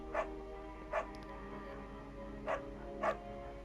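A beagle barks in the Firewatch video game, four short yapping barks in two spaced pairs, moderately close, over a soft sustained music bed with no talking.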